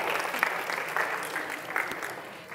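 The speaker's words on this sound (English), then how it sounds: "So they do deserve an applause." An audience applauds after a talk, a steady patter of clapping hands at moderate level lasting a few seconds with no voices over it.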